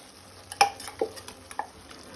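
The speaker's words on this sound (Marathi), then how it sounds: "मिक्स करून घेवया, ढवळून घेवया" A spoon scraping and clinking in a pot of Goan black peas curry (kala vatana tonak), a few soft, scattered knocks over a faint low simmer, quiet and close.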